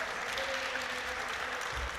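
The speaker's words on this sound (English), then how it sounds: "a big applause there for Nick for his last point as well." Indoor volleyball crowd applauds after the London Aces take the deciding set 15-13 against Bristol, with steady, moderately loud clapping over a low murmur.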